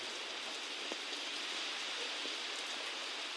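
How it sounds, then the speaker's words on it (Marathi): Heavy evening rain falls steadily over farmland, a dense, even hiss of drops on surfaces at moderate distance with no other sounds. "संध्याकाळी जोरदार असा पाऊस आलेला आहे"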